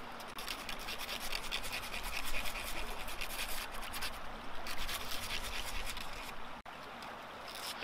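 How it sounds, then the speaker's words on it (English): Sandpaper rubs back and forth along the metal edge of a survival card knife, making a close, continuous rasping scratch with a steady stroking rhythm and a brief break near the end. "You might also wanna use your sandpaper to take off the burr that's gonna be fairly sharp"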